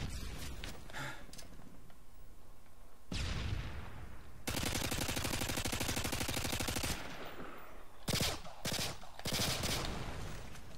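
Gunfire exchange in the Modern Warfare 2 video game, loud rattling automatic bursts of several seconds each with short gaps, followed by choppier shots at the end.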